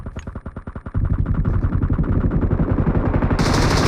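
Rapid, continuous bursts of M249 machine gun fire in the BGMI battle game, starting as spaced rattling shots and thickening into a dense, loud stream of rounds.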